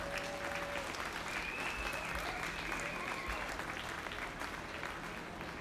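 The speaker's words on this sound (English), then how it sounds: "give them a great big Maryland Pride round of applause" Steady, dense audience applause at the Maryland State Fair open livestock show, greeting the supreme champion cattle, continuous and even from start to finish, with a faint hum beneath.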